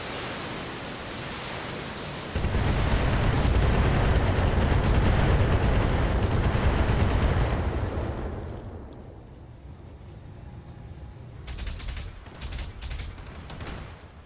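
Turret fire erupts in the mech combat game Battletech, a loud, dense roar of blasts lasting several seconds before dropping to a rumbling background with a few sharper bursts.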